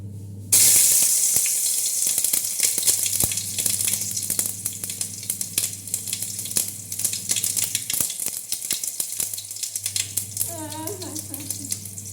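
Tomatoes dropped into hot oil for a tomato curry burst into a loud, crackling sizzle that holds steady and close, with a brief voice near the end.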